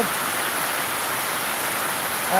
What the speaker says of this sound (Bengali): আমাদের এখান থেকে সকাল চারটা না আটটা থেকে থেকে শুরু হয়েছে বৃষ্টি